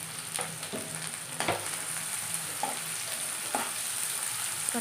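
Egg and onion frying in a pan, with a steady close sizzle and spatter punctuated by a few soft taps and scrapes of stirring, no voices.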